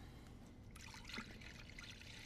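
Water trickling and pouring steadily into a bowl for whole wheat bread dough, a continuous close splashing stream with no talking.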